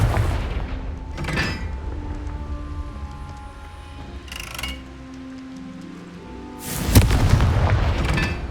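Confringo spell blasts in Hogwarts Legacy: several booming explosions at irregular intervals, loud and close, with a heavier blast near the end over a low rumbling background.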